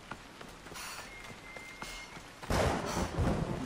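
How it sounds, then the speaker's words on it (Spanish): Heavy rain pours down in Assassin's Creed Odyssey, a steady patter that swells suddenly about two-thirds through into a loud, dense downpour with a few dull thuds. "Ha empezado a llover a tope."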